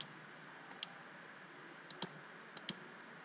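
Faint computer mouse clicks during AutoCAD drafting come in quick pairs, three double clicks spread over a few seconds against a quiet background hiss.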